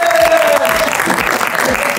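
An audience in a rap-battle punchline show claps and cheers for a spectator named Tanguy, a loud continuous crowd applause with a brief voice and whistle over it.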